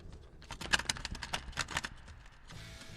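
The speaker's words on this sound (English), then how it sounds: "Does your cassette mechanism make a terrible sound like this when you open it?" A cassette tape deck's eject mechanism opens with a rapid series of harsh mechanical clicks and rattles, close and fairly loud, then settles into quieter noise.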